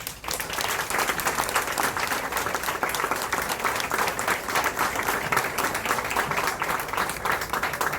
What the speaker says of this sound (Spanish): Pido a este amable público un fuerte aplauso para Bernardo Jurado.